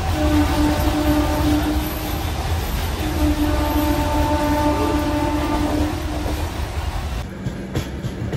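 A MEMU train on the Rajahmundry to Vijayawada route stands at a station platform, giving off a steady, loud rumble with humming tones that shift and quieten near the end, and no talking.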